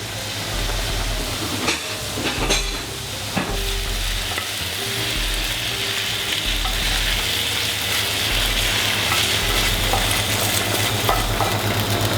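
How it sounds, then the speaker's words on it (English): Mange tout, spring onions and chilli stir-fry in a hot pan or wok, with a steady close sizzle and hiss throughout and occasional scraping stirs and clanks of the utensil. "So the mange tout in. We'll put the spring onions in at the same time, and the chilli."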